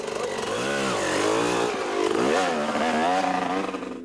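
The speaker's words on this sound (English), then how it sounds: "And then Ruan Roberts back on his Yamaha, riding at a full throttle" Yamaha motocross motorcycle at full throttle during the 2011 Kalahari 400 off-road race, its engine screaming loud and close with rising and falling revs through gear changes.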